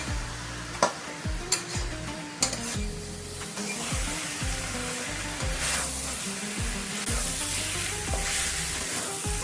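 Methi aloo (fenugreek potatoes) sizzling in a pan as it is stirred: steady frying hiss with a few sharp scrapes early on, under a low continuous hum.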